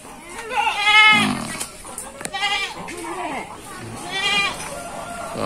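Goats bleat near a goat pen beside a house in a village, three or four loud, wavering calls close by, with a person talking between them.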